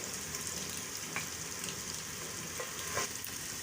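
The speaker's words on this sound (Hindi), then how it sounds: "अभी मैं इसमें गोश्त भूनूंगी 10 मिनट तक।" Chicken meat frying in a pan with garlic for a chicken and radish bhujiya, giving a continuous close sizzle with faint stirring scrapes and no talk.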